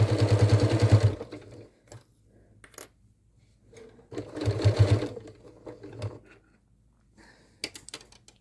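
Sewing machine stitching fabric for a Halloween witch hat at a small stitch length, running in two short bursts of about a second each with quiet pauses and light handling clicks between.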